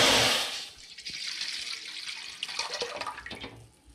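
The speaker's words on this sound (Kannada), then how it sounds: "ಈಗ ನೀರು ಹಾಕ್ತಾ ಇದ್ದೀನಿ." Water poured from a cup into a pan for ragi mudde, a bright splashing gush at the start that settles into lighter trickling and dribbles, close by with no talk.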